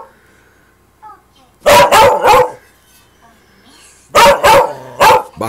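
A big, agitated Baco dog barks in loud, close bursts of three quick barks, pauses, then barks again in another rapid cluster, directed at a black cat. Faint quiet sounds fill the gaps between volleys.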